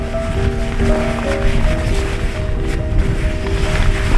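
Strong wind in the Icelandic highlands roars steadily across the microphone, with gusty buffeting and a faint tonal hum underneath; no voices.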